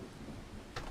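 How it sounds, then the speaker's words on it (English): Rain falls steadily in a farming video game, a soft even hiss with a brief louder burst near the end. "Alright, it's raining."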